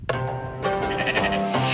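A sheep bleats loudly and close by in a wavering cry that breaks into a second, longer bleat, alone with no talk.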